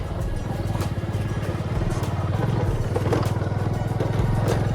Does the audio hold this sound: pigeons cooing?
no